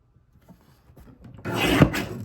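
A paper trimmer slices through card stock for a surf shop card kit: a short rasping cut swells and fades over about a second, close and clear, after a few faint handling taps, with no voice.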